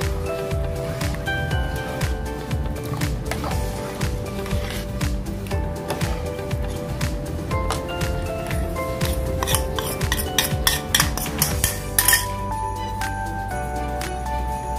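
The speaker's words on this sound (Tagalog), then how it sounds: "haluin lang natin mabuti yan" A spoon stirs a cookies and cream ice candy mixture in a bowl, giving soft clinks and rubbing scrapes that come in bursts and grow busier toward the end.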